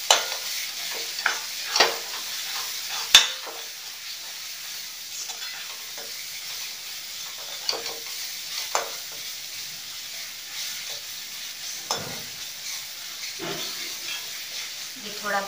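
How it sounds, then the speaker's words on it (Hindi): Spices with coriander and kasuri methi roasting in a pan, a soft steady sizzle with several distinct clinks and scrapes as they are stirred, close but fairly quiet. "फीका धनिया, कसूरी मेथी, मिक्स करेंगे और इसे सेकेंगे।"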